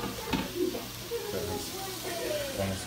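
Sofrito for shrimp soup sizzling in a pan over medium heat, a steady soft frying hiss with light stirring knocks and voices talking over it.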